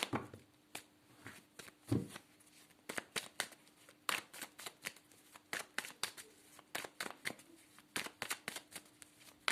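Tarot cards shuffled by hand, a long run of quick crisp riffles and flutters in irregular bursts, close and fairly quiet, with no speech.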